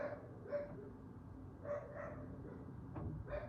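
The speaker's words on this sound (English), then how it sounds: "let the dogs bark" Dogs bark a few times at a distance, short muffled yaps spaced irregularly over a quiet room background at a brewery.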